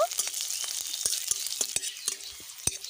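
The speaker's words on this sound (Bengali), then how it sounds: "ফোড়নটা খুব ভালোভাবে ভেজে নেব।" Whole cumin seeds, raw onion and green chili fry in hot mustard oil with a bright, crackling sizzle and quick spatula clicks against the pan.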